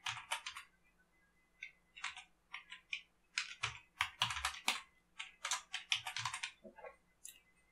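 Bursts of keystrokes on a computer keyboard, clustered clicks with short pauses between runs, close and fairly clear, with no voices.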